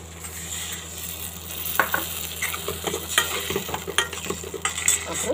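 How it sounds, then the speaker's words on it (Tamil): Onion, garlic and tomato sautéing in a pan as tamarind water goes in: a steady, fairly quiet sizzle with scattered stirring scrapes and pops. "இப்போ இதெல்லாம் ஓரளவு வதங்கிட்டு இருக்கும் போதே புளி தண்ணியை இப்போ சேர்த்துக்கலாங்க."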